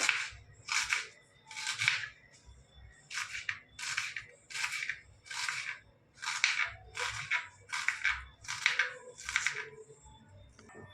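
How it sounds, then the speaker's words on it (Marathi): Knife chopping through an onion for a vegetable curry, in about eleven close, regular bursts of crisp slicing cuts with short pauses between them, clear and alone with no talk. "आता कांदा कापून घेते"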